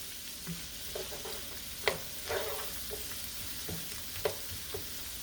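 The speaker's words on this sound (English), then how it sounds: "We want to sweat these vegetables down some" Vegetables sweating in a pan over medium-high heat, giving a soft, steady sizzle with occasional stirring clatters and a few sharper utensil taps, close and alone.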